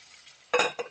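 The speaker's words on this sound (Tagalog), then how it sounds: "Ang mais, halo-halo lang yan." Corn is stirred in a cooking pot, the spoon scraping in two short close bursts after a quiet stretch of faint background noise.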